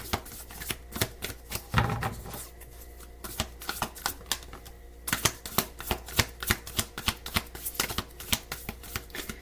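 Tarot cards are shuffled and drawn by hand, a close series of quick papery riffles and snapping flicks in uneven bursts, with a short pause partway through.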